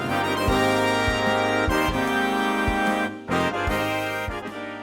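A Dorico MIDI mock-up plays back a composition, with sustained harmonic instrumental chords and rhythmic low accents, full and steady before a brief dip near the end.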